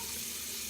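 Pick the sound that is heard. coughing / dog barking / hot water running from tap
hot water running from tap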